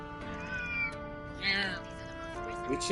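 A cat meows in the video game Trails through Daybreak, with several short mews scattered over quiet game music while a voice talks faintly.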